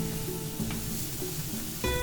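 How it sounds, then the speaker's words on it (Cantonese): Onions and potatoes stir-fried over high heat in a wok, a steady loud sizzle running throughout with faint scraping of stirring. "用大火將洋葱薯仔炒到金黃色"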